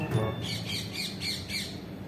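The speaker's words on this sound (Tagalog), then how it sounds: "Parang mga ibon ang nakikita ko dito." Birds squawk at Sharjah airport, five or six close, harsh calls spaced evenly over a busy background hum.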